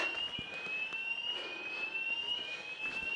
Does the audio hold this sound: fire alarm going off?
yes